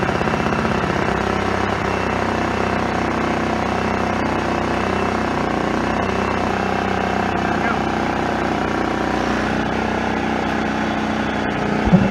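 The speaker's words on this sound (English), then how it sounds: "Move it to start. Let it warm up just a little bit." A portable generator engine runs with a steady, loud, close chugging roar, warming up after being started, with a person talking over it at points.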